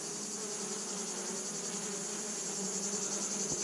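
An agitated honeybee swarm buzzes on a couple of hive frames, a dense steady droning hum of many wings, close and fairly soft, with no voices.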